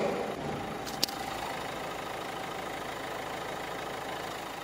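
A Renault Samsung QM3 with a 1.5 diesel engine idles with the hood closed, giving a steady, quiet low hum with one faint click early on and no voices.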